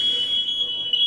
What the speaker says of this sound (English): you'll do a double yellow and hear that that loud chirp